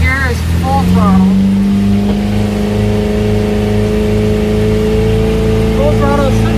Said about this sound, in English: Now here is full throttle.